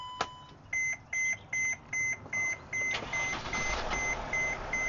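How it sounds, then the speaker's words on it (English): Rapid, repeated electronic collision-warning beeps sound in an even rhythm inside a 2017 Winnebago Navion 24V Class C diesel motorhome, over a low diesel engine hum. "if you come up on somebody too quick, too fast, it'll start beeping."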